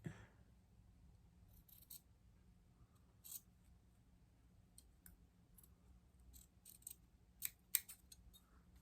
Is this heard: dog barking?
no